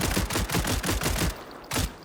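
Rapid automatic fire from the short-barrelled SP9A3S in the game SCP: 5K, a loud, even stream of shots for just over a second, a pause, then another brief burst.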